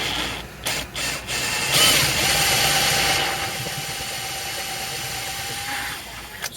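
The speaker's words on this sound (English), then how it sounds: "slowly drill it to our depth on each one of these" A drill with a 9/32 bit boring slowly into a bass guitar neck to a taped depth mark: a few clicks, then a steady whirring motor whine with grinding texture that holds for several seconds before easing off.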